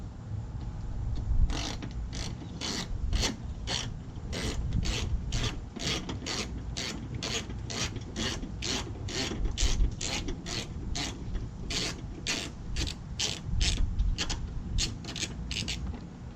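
Ratchet loosening 10mm headlight assembly bolts on an accident-damaged Toyota Camry, steady series of sharp close clicks repeating evenly over a faint rubbing mechanical background.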